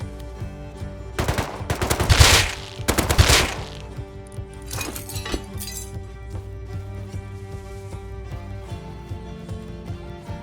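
Rapid AK rifle fire in the Rust video game sounds in a couple of loud bursts early on, followed by scattered metallic clinks and quieter rattling, with no speech.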